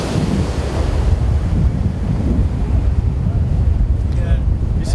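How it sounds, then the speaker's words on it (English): Small ocean waves break and wash in steadily at a surf spot, a loud broadband rumble mixed with strong wind buffeting the microphone throughout. "the waves aren't that bad today"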